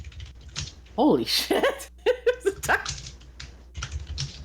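Keystrokes on a computer keyboard clatter in quick bursts beneath a loud exclaimed voice, the tapping running throughout alongside the talking.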